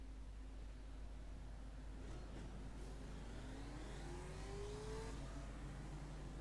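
A production race car in the iRacing simulator revs up through a rising engine whine, steady and moderately quiet, with no talk over it.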